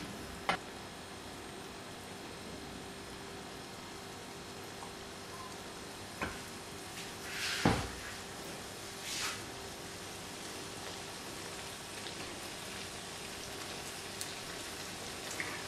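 Pizza fries in a pan over low-to-medium heat, giving a faint, steady sizzle with a few soft pops and ticks scattered throughout.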